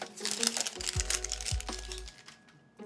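Plastic protective wrapping being peeled and crinkled off a new vivo X300 Pro smartphone, a few close rustling and crackling bursts with a brief low thump, fading to quiet near the end.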